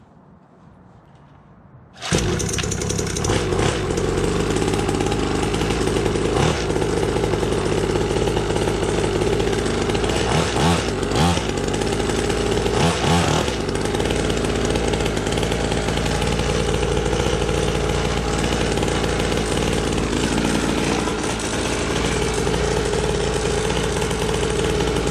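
A Syx Moto 50cc kids' dirt bike running on premixed oil and gas starts abruptly after a quiet moment, then keeps up a loud, raspy, buzzing two-stroke idle close by for over twenty seconds with slight wavering of revs.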